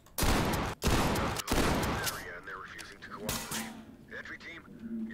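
Video game gunfire: several loud, sharp volleys of rapid shots in quick succession, then a quieter stretch with warbling sounds.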